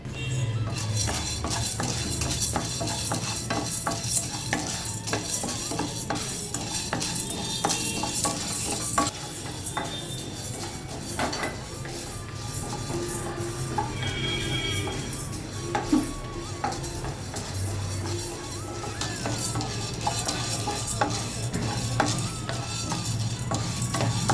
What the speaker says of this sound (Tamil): ரோஸ்ட் பண்ணிடலாம் ஒரு சின்ன டீஸ்பூன் அளவுக்கு எண்ணெய் விட்டால் போகிறோம்